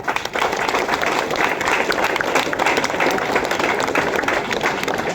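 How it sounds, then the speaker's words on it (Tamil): Loud applause from a crowd of college students at a government arts college event in Tamil Nadu, dense continuous clapping sustained throughout. "உண்மையிலே அதுக்காக பலத்த கரகோஷங்க"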